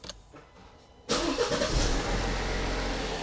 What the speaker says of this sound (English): Then we're going to go ahead and start the engine.